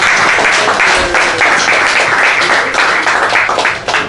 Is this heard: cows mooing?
no